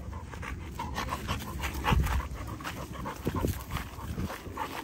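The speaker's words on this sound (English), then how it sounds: "That's a pit bull right there." An XL pit bull pants outdoors in quick steady breaths, close and fairly loud over background noise.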